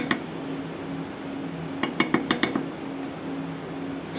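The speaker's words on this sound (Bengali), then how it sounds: "এবার একটু নেড়ে নিচ্ছি।" A spoon stirs chana dal in a pot, with a quick cluster of metallic clinks and scrapes against the pot in the middle, fairly faint over a low steady kitchen hum.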